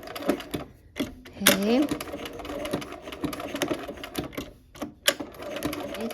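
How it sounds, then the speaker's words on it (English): A sewing machine stitches along the points of a quilt block, running in short bursts and pausing often to pivot, close and fairly loud, with a brief spoken word in between. "So I'm actually stitching on the fabric."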